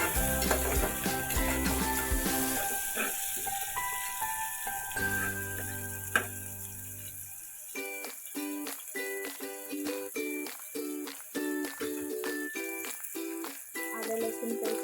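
Chopped tomatoes and two green chillies hit hot oil in a pan, first a strong hiss, then quieter rhythmic sizzling bursts as the mixture is stirred, close and clear with no talking.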